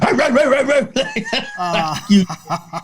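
A comedian imitates a dog with his voice, growling low and then letting out several rough barks and yips in a rapid, uneven run, loud and close, with laughter mixed in.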